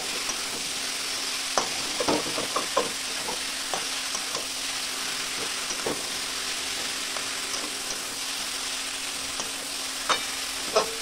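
Cabbage frying in a pan for a spinach and cabbage curry, a continuous hiss of sizzling with scattered clicks and taps of a spoon stirring, close by and with no one talking.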